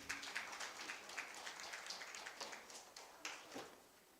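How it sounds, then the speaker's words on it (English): Faint, distant applause with scattered hand claps pattering steadily throughout, no voices. "And Sonia, let's give a round of applause, please."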